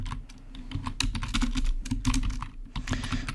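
Dense, steady typing on a computer keyboard, close and fairly loud, with quick irregular key clicks running continuously and no talking.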